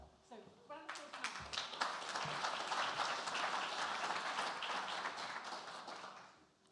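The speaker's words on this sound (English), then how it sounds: "So, round of applause." Applause from a conference audience at an innovation management event, building quickly from a few claps into a full steady wash of clapping that tails off at the end, moderately distant, with a voice briefly heard at the start.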